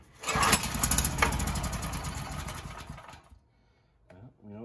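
A McCulloch generator engine fires and runs loudly for about three seconds, a rough buzzing drone that then cuts out, followed by a brief voice.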